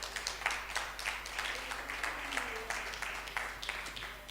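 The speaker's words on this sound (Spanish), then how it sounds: "Den un aplauso a Jesús." Congregation applause during a church prayer service, a steady wash of clapping at modest volume over a low electrical hum, with faint voices mixed in.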